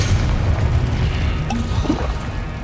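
Confringo blasting spell explosion in Hogwarts Legacy, a loud, close, rumbling boom with a crashing impact and a sharp hit partway through, no talking.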